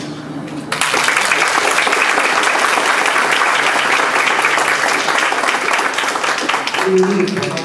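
Seminar audience at a university book launch breaks into sustained applause, a dense, loud wash of many hands clapping for about six seconds before fading as a voice returns.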